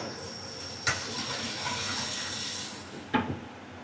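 Water pours into a pot of chicken masala being cooked for biryani, a continuous close splashing gush with two sharp knocks of a vessel or utensil.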